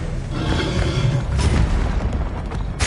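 An Expelliarmus spell cast in Hogwarts Legacy, a loud whooshing burst with a deep booming impact rolling through a short magical rush.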